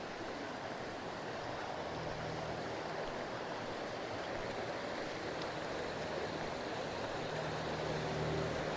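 A waterfall in Wissahickon Valley Park, Philadelphia, gives off a steady, broad rushing roar of falling water, heard evenly throughout with no talking.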